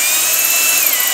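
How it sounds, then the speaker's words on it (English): A power drill whirs steadily and close up, cleaning out clogged holes in a painted guitar body, as one continuous high-pitched grinding run. "So I actually took a drill and just cleaned out those holes"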